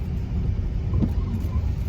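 Car driving in the rain, a steady low engine and road rumble from inside the vehicle with a brief swell near the middle, no talk during the stretch.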